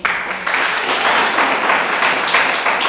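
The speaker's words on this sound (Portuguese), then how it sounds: "Você pode bater as palmas para Jesus?" A church congregation claps hands for Jesus, a dense, loud, continuous wash of many hands clapping together at close range for several seconds.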